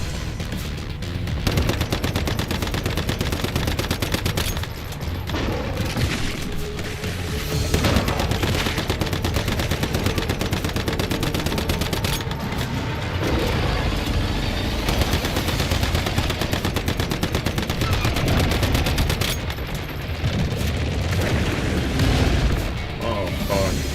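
Sustained automatic gunfire in the survival shooter Once Human, dense rapid bursts and booms running nearly continuously and loudly throughout with brief lulls, no talk over it.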